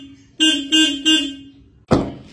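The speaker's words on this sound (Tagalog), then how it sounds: "parinig ko muna sa inyo yung tunog ng aking busina." Three short, loud honks from the stock horn of an owner-type jeep in a quick even rhythm, then a brief rustle or thump close by.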